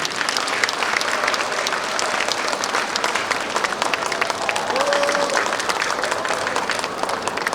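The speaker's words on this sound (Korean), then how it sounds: "큰 박수 한번 부탁드리겠습니다" Steady, loud applause from a large audience at a ceremony of a Gyeongbuk volunteer crime-prevention association's rally, dense clapping sustained throughout with crowd murmur and a brief voice in the background.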